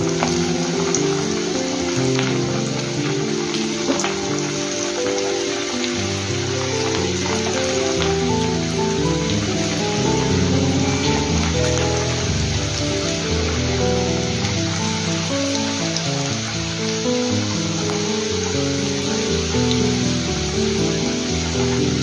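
Cabbage bhaji fritters deep frying in hot oil, a steady, loud, close sizzle and bubbling that runs unbroken throughout, rain-like and constant.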